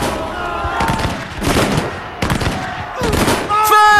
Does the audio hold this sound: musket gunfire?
yes